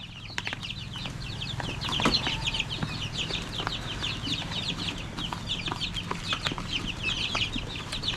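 Chicks feeding on milk and feed give quick, high chirps and soft clucks, scattered and moderately close, over low background hum with a few sharp taps.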